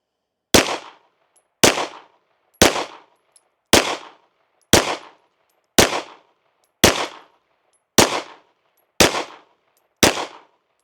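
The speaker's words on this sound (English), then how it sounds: "let's shoot our first 10-shot group at the middle right target" Ten gunshots fired one at a time at a target, each a loud, sharp crack with a short decaying tail, spaced evenly about a second apart in a steady rhythm.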